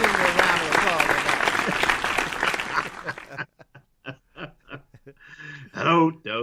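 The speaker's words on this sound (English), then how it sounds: "I give you a round of applause" Audience applause at a marching band battle event, a loud burst of clapping for about three seconds that stops abruptly, followed by someone speaking in short phrases with brief laughter.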